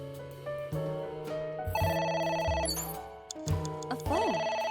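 Electronic telephone ringtone in the video game AI: The Somnium Files, a bright synthesized melody that repeats steadily over layered game music, with no voices.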